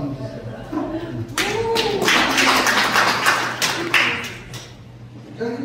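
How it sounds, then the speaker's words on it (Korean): A seminar audience gives a short burst of applause when a partner from the Philippines is introduced. About three seconds of close, crisp clapping rises between stretches of someone talking. "박수 한번 주세요."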